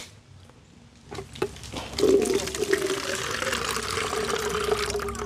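Coconut water pours out of a coconut up in a tree during outdoor cooking, a close, bubbly, trickling stream that starts after some faint handling clicks and keeps flowing steadily.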